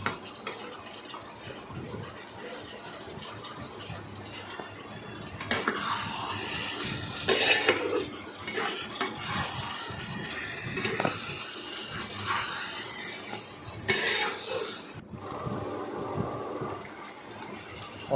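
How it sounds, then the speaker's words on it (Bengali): Spiced mutton with cumin, coriander, garam masala and chili powder stirred and sautéed in a pot: steady soft scraping and sizzling, swelling into louder bursts of stirring, with no talk. "এদিক ওদিক করে নাড়াচাড়া করে মাংসটাকে ভালোভাবে কষাতে হবে"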